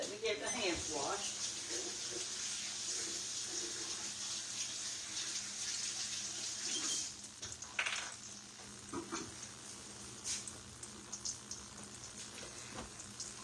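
Running tap water pours steadily while hands are washed at a kitchen sink before cooking dinner, a continuous close wash of water with small splashes and clatters, steady throughout.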